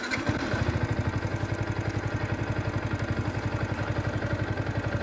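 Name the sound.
Yamaha MT 125 motorcycle engine starting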